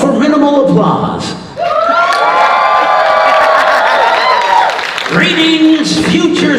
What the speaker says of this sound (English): Hold for minimal applause.